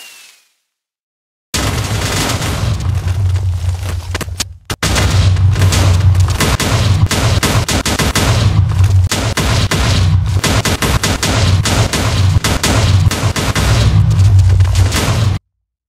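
Rapid barrage of bomb explosions from a Minecraft Bedrock air strike, dense booming blasts and crackling bursts continuing without pause after a brief silent start, loud and close with no talking.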